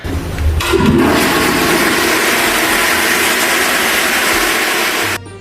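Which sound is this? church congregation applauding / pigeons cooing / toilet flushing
toilet flushing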